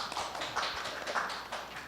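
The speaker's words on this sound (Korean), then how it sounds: "큰 박수로 맞이해 주세요." Audience applause at a Korean basic income forum session, a steady patter of many clapping hands of moderate loudness, with no talk over it.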